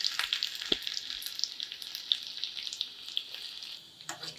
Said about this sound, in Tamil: எடுத்து வச்சுருக்கிற சின்ன வெங்காயம் ஆட் பண்ணிக்கலாம்